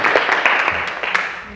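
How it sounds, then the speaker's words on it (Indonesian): A short burst of classroom applause for a student named Lenora, many hands clapping together in a dense, bright patter that thins toward the end. "berikan aplaus dulu untuk Lenora"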